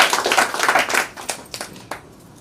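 An audience claps loudly in a quick rattle of many hands, then the applause thins to a few scattered claps and fades out within a couple of seconds.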